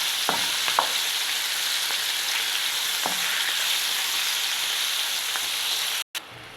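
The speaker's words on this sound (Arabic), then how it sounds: "هنقلب كده اللحمه كويس عشان تاخد كده تشويحه كويس" Beef sizzles steadily in a hot pot while being stirred and turned, a continuous loud frying hiss with a few soft scraping knocks, ending with a brief cut.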